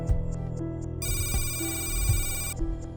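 A telephone bell rings in loud repeated bursts, a steady bright electronic trill over a low background hum, with no talking.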